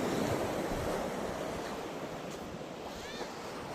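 Wind and surf at the Atlantic City waterfront make a constant loud rushing wash, with gusts buffeting the microphone and no clear breaks.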